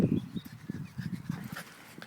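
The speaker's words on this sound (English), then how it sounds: "He's an energetic little dog" A small, energetic dog yips and whimpers in short bursts close by, busy scratching and pawing at someone's legs, with brief sounds scattered through the moment.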